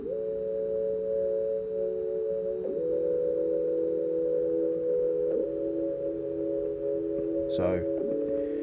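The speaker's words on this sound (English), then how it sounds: "here we have like just a normal sine wave" Steady synthesizer sine-wave tones hold sustained pitches, shifting notes every few seconds, with a brief noisy burst near the end.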